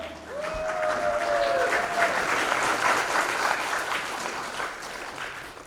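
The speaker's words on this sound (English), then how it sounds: "Applause, House of Om." Steady audience applause at a spiritual talk, dense clapping sustained throughout at even loudness, with a brief tonal whistle near the start.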